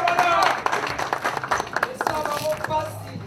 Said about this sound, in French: On applaudit encore, s'il vous plaît.